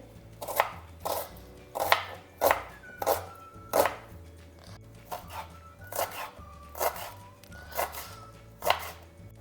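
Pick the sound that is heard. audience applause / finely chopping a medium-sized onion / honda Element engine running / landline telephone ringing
finely chopping a medium-sized onion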